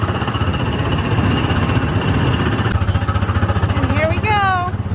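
Small ride-vehicle car engines at Disney World clatter in a loud, rapid rhythmic chugging close by, with a brief squeaky sound near the end.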